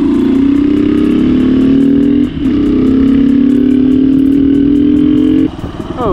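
A 2001 Suzuki DR200SE dirt bike with a nearly bald rear tire runs loud and close, its engine droning steadily with slight pitch rises, easing off briefly twice.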